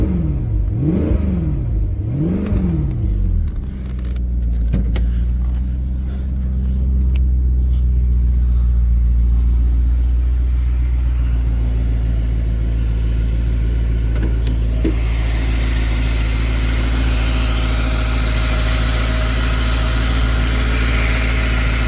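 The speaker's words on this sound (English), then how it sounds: "I'm just gonna throw it a rev just to see if the motor can move" A Mercedes CLK63 AMG convertible's M156 6.3L V8 with a misfire and oil leak, starting up with a whine, then settling into a loud, rumbling idle that swells with a rev near the end.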